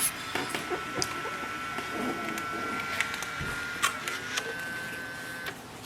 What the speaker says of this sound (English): So we'll just wait for the printer.